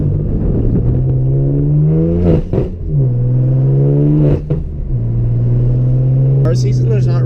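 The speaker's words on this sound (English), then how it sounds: "Cold start is horrific in this thing." A car engine fires from cold and settles into a loud, rough, steady idle, with a couple of brief revs breaking the drone.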